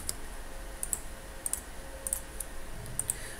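Fingers tap a password on a computer keyboard while creating a new user account, a few crisp, fairly faint key clicks landing in small clusters over a quiet room hum.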